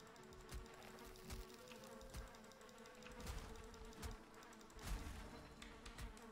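Bees from the video game Valheim buzz in a steady, droning hum, overlaid with scattered sharp clicks and taps, heard faintly and alone.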